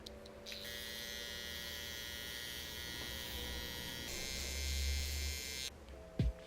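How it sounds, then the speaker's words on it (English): Electric beard trimmer running against cheek hair, a steady close buzzing drone with a slight shift in pitch partway through as it meets the hair, stopping near the end with a brief knock. "Now I'm going to remove the hair on top of my cheeks with my trimmer"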